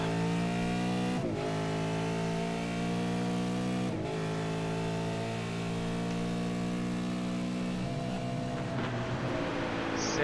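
Ford Mustang V8 Supercar racing engine at a Winter Series endurance round in New Zealand, a loud sustained roar with rising and falling pitch as it revs through gears, brief dips at shifts, steady and close throughout.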